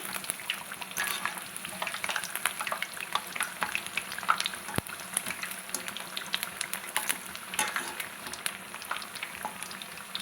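Corn fritters fry in hot oil until golden brown, a constant crackling, bubbling sizzle full of quick pops and small spatters, fairly quiet and heard with no voices.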